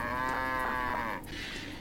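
A cow in The Sims 2 DS video game lets out a single drawn-out, synthetic-sounding moo lasting about a second, heard alone and loud before it cuts off abruptly.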